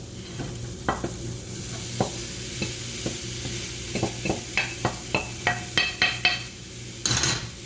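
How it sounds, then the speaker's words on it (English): Tofu crumbles frying with minced garlic in a pan, a soft background sizzle broken by a steady run of sharp spatula scrapes and taps that grow quicker and louder toward the end, closing with a brief burst of hiss. "now you want to put in the tofu crumbles"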